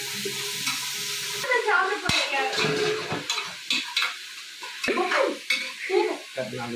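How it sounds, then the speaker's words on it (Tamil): Sliced onions sautéing in a pan for chicken biryani give a steady close sizzle, broken by repeated scraping stirs and occasional clinks of a utensil against the pan. "இந்த ஆனியன் வந்து நல்லா வதங்கிக்கிட்டு இருக்கு. பொன்னிறமா வறுக்கணும்."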